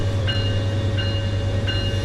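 A steady low rumble of a train rolling past in Train Sim World 4 on the Metrolink Lancaster line, with a faint repeating whistle-like tone every second or so; continuous and even, no talking.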